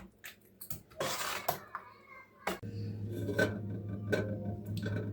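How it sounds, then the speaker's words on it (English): Spoon scraping and clinking against a pot while stirring tomato sauce for lasagne, faint close scrapes and knocks with a low simmer underneath. "Give it a good stir."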